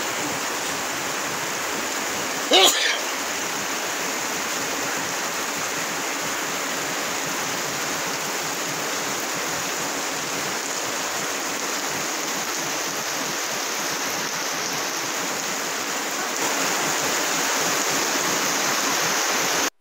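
Steady, even rushing of rain falling at Badiangon Water Park, a constant broadband hiss that continues throughout with a brief sharp knock early on.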